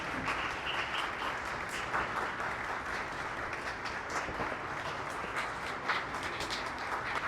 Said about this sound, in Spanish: Este aplauso y esta muestra del doctor Eduardo Jorge Prats significa bastante en este día.